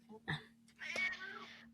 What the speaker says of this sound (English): if you guys can hear my cat